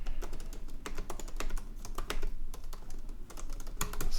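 Typing on a computer keyboard: rapid, irregular clicking keystrokes close up over a light background hiss, steady throughout with no talk.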